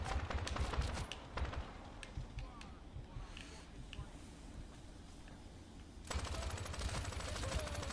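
Video game gunfire crackles in dense, rapid bursts at moderate volume, thinning in the middle and then resuming as a continuous burst near the end.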